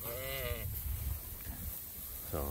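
Sheep bleating in a pasture under tip grazing on poor soil, two clear wavering bleats at the start and end, close, with a low muffled rumble between.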